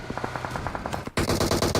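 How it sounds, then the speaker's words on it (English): Gunfire in a PUBG esports match: a rapid burst of automatic shots, then a louder and denser stretch of fire, with no talk. "Memo shooting at Hype."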